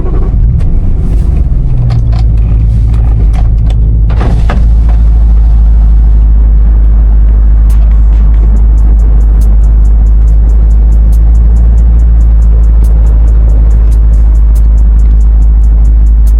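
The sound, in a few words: BMW E93 M3 car engine starting and running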